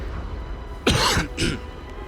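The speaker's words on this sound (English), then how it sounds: "I think I need to cough, so you've been warned" A single close, harsh cough followed by a smaller second cough, with quiet background hum around them.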